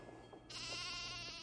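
A sheep bleats once in the Nancy Drew game The Haunting of Castle Malloy, a single wavering, nasal call that starts abruptly and holds for about a second over a faint steady background hum.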